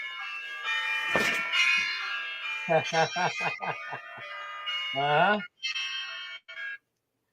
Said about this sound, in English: That's a healthy alarm.